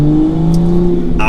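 Manual Toyota Supra accelerating through the first-to-second gear change, a loud close engine drone with a steady harmonic note and a brief shift-like break near the end.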